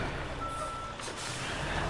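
A truck in the SnowRunner video game emits steady reversing beeps, faint under rumbling engine noise and a hiss of air brakes, with no talk.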